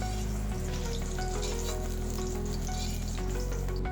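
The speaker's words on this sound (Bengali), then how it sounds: "আগে থেকে কেটে রাখা ক্যাপসিকামগুলো তেলের মধ্যে দিয়ে ভেজে নিচ্ছি।" Chopped capsicum frying in hot refined oil, giving a loud, continuous crackling sizzle with a steady low hum beneath and occasional stirring scrapes.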